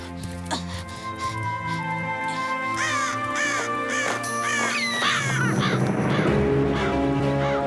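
An animated cartoon crow gives a run of sharp, repeated caws over a musical score, loud and close, with a denser flurry of calls toward the end.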